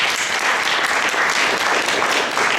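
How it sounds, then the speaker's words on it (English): An audience at a design talk gives Emmet a round of applause, dense continuous clapping from many hands, loud and even throughout the short stretch. "I just want to give Emmet a round of applause for having leadership"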